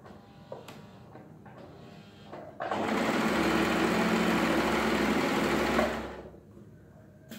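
After a few light clicks and handling taps, a Janome 3522 sewing machine stitches in a single continuous run of about three seconds, with a close, buzzing mechanical whir that then stops.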